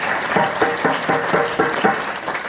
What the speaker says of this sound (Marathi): खरंच अतिशय खरंच गायक वादकासाठी जोरदार टाळ्या वाजवा